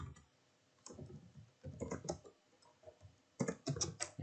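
Fingers type Arduino code on a computer keyboard in quick, soft clicking bursts separated by short pauses, recorded close and quiet with no talk.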